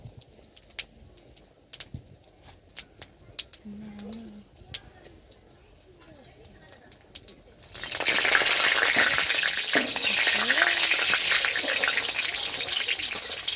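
Cumin seeds, bay leaf and chilies dropped into hot oil burst into a loud, dense spattering sizzle after a quiet stretch with distant bird calls, and the frying then holds steady to the end.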